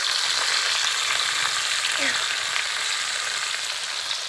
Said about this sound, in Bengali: কাঁকড়াগুলোকে খুব ভালো করে ভেজে নিয়েছি